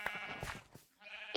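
Sheep in the Minecraft video game bleat in a couple of short, close, nasal calls, alone with no talk.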